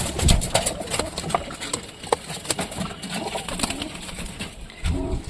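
A domestic pigeon coos at close range in short repeated throaty bursts, mixed with rustling and light knocks in a busy indoor space.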